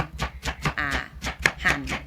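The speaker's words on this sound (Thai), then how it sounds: "ซึ่งเป็น ไก่พันนะคะ ก็จะนำไป สับนะคะ" A cleaver chops raw chicken in a Thai kitchen while preparing a banana-stem curry, with about eight sharp, evenly spaced whacks on a board, close and clear.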